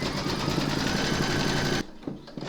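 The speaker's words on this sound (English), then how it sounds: "Pop your hoop into your machine and stitch round number 5, and that's going to secure your 2 fabrics in place." An embroidery machine stitches two layers of fabric held in a hoop, a steady, fast mechanical whirr running loud and close for nearly two seconds before stopping abruptly, leaving only faint handling noises.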